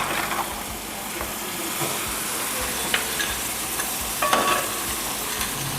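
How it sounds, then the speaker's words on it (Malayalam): Prepared crab is dropped into a turmeric-spiced gravy in a pan and stirred, a steady close sizzle and bubbling with occasional spoon scrapes, with no voices over it. "റെഡിയാക്കി വെച്ചിരിക്കുന്ന ഞണ്ടിനെ അപ്പോൾ ഗ്രേവിക്കകത്തോട്ട് ഇടാൻ പോകുന്നു."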